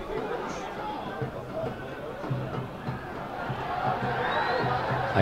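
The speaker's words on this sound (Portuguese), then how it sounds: "Aí a torcida pedindo uma falta ali." Stadium crowd at a 2019 Goianão football match between AA Anapolina and Atlético CG, a dense roar of chatter and shouting as fans call for a foul, steady and loud throughout with rising intensity near the end.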